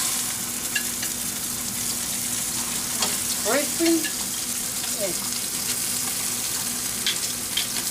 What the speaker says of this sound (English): Let the bacon crisping.